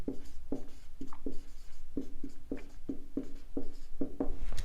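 Chalk or marker strokes writing a word on a classroom board during a maths lesson, a steady series of short, crisp taps and scrapes, close and clear with no talking.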